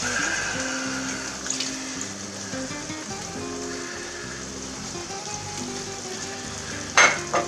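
Garlic and chicken broth sizzle and fry steadily in a pan, a constant bright hiss, with a sharp clink of a utensil near the end.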